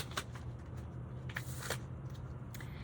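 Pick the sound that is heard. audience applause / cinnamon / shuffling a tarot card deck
shuffling a tarot card deck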